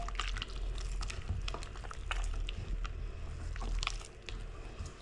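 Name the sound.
mixing gram flour batter with water for boondi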